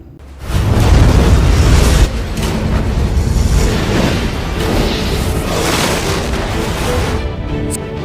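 A massive explosion destroys the base in Alien vs Predator, opening with a deep booming blast followed by a dense, sustained roar of rumbling debris and fire that carries on loudly for several seconds.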